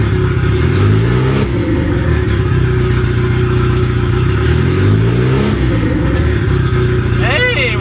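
A cold-started 2.0-litre Honda Civic engine idles steadily and loud throughout, with a couple of slow rises and falls in pitch as the revs settle, and a brief chirping squeal near the end.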